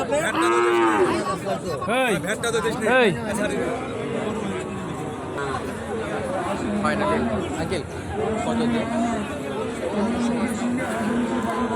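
Sahiwal cattle at a busy rural livestock market, with several loud nearby moos rising and falling over a steady crowd hubbub and people talking.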